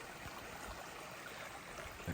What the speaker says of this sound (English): A creek, I should say, not a spring.